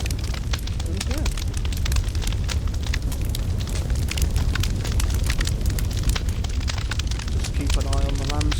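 Big fire pit in Minecraft, a loud, constant crackling roar of flames that fills the whole stretch, with someone talking over the burning.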